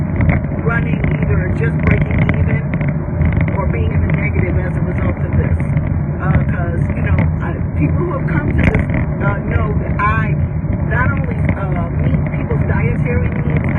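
Steady, loud engine and road rumble from inside a moving car runs throughout with wind noise, while a voice talks over it.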